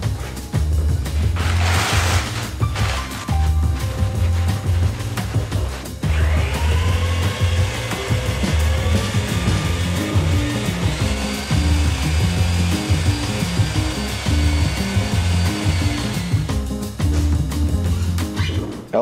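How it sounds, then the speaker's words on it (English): British Gypsum bonding undercoat plaster being mixed with a power mixer, a loud steady whirring drone that holds for most of the stretch with a rough, grinding edge and slight shifts in pitch. "Now we're going to mix some British gypsum bonding, which is the undercoat plaster we're going to be using."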